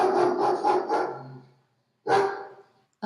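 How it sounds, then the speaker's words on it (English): A big dog in The Magic Door video game barks from just behind a fence, a quick burst of several loud, close barks, a pause of silence, then another bark. "A big dog comes right up to the fence."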